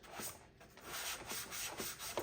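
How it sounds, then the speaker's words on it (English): Soft, steady rubbing of a sanding pad on a model grain wagon, in repeated back-and-forth strokes, quiet and close. "You can feel it on the sanding pad as you go along."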